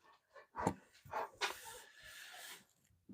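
A dog barks indoors at wind outside, a few quiet, muffled barks and whimpers spaced out over a few seconds at low level.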